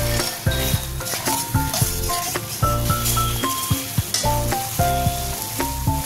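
Spice paste with sugar, poppy seed paste and cashew paste sizzles in a frying pan as it is stirred for a potato-free doi potol curry, with a steady frying hiss under prominent tonal music.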